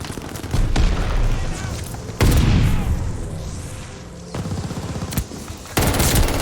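An Automaton submachine gun fires in a shooter game in rapid, loud bursts with sharp booming onsets and decaying tails, several separate volleys over a few seconds amid other game noise.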